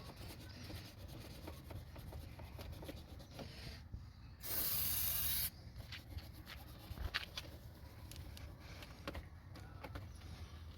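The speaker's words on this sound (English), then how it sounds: "easy to clean with brake cleaner." A single loud, steady spray of brake cleaner hisses for about a second, standing out against quiet rustling and mechanical handling sounds.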